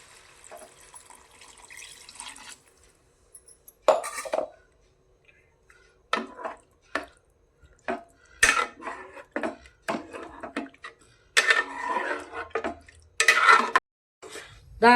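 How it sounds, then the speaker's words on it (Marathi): Water is poured into Malvani fish curry after a short steady run, followed by a series of close clinks and knocks from a utensil against the pot. "आणि माशामध्ये पाणी टाकून घेऊ."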